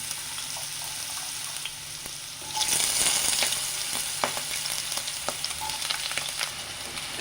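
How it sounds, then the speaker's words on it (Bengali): Potato pieces drop into hot oil and a loud sizzle swells up, then keeps crackling and spitting steadily, close by, with no talking. "তেল আমার গরম হয়ে গেছে এবার আলুগুলো ভেজে নেবো"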